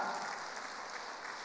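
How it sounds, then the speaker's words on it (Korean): Congregation applauding during an early-morning Tuesday worship service at a prayer retreat center, a steady, fairly faint wash of clapping hands with no speech over it. "박수 한번 드시길 바랍니다."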